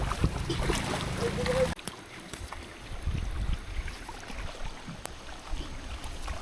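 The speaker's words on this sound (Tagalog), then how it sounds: "At mataalon yung speedboat. Makina yun, di ba?" A speedboat engine drones steadily across open water with wind and rushing spray, rumbling continuously and fairly close without clear talk.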